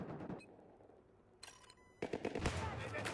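Gunfire in a shooting video game comes in short bursts, with a sharp rapid volley partway through and louder shots toward the end, mixed with game noise and someone talking.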